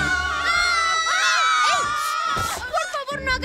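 Several girls scream and shriek excitedly together, loud and close, in an animated film scene where the excitement is about a boy band coming to Toronto.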